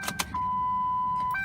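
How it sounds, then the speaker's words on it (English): A Ford Crown Victoria's fuel pump primes with a steady electric whine lasting about a second, after a couple of faint clicks. "gonna prime that fuel pump up."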